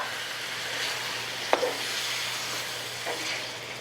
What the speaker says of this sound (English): and then we're gonna start to stir this up